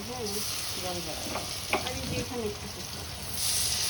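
Koftas frying in mustard oil, giving a steady crackling sizzle with some stirring, while people talk over it nearby.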